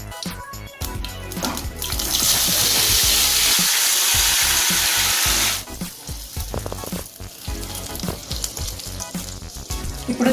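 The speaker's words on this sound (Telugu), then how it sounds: "ఇప్పుడు ఈ వంకాయ ముక్కలను కూడా దీంట్లో యాడ్ చేసుకుందాము" Brinjal pieces dropped into hot tempering oil with curry leaves in a pan set off a loud, dense sizzle that swells for a few seconds, then settles into softer crackling and stirring clatter, with no talk.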